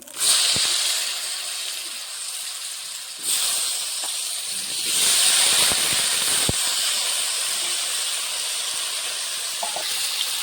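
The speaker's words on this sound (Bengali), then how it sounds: "এখন আলুগুলো ভেজে নেব।" Potatoes frying in hot oil in a pan for a paneer dish, giving a steady, loud, close hiss of sizzling that swells midway, with a few sharp clicks and pops scattered throughout.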